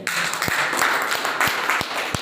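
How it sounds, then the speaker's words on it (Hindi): Seminar audience applauding at an awareness event, a close, steady patter of many hands with a few louder individual claps standing out, continuous for a couple of seconds without talk. "तालियां होनी चाहिए।"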